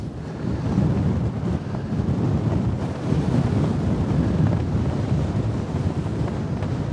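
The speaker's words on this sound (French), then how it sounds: "Ah, le vent est violent" Strong wind sweeps across a golf course, buffeting the microphone with a loud, continuous low roar that gusts unevenly throughout, no voices heard.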